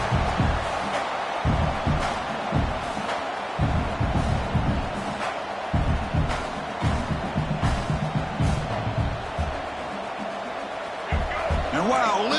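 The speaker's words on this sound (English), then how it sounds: "Wow, listen to this crowd noise. This stadium is vibrating." A football stadium crowd roars after a sack, a broad sustained wash of cheering with rhythmic thumps and stomps pulsing underneath, loud and continuous throughout.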